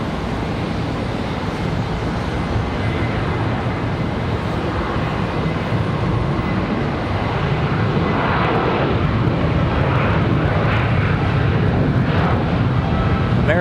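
A jet airliner in oneworld alliance livery taking off from Charlotte Douglas airport, its engines roaring loudly and continuously with a deep rumble that builds slightly over time.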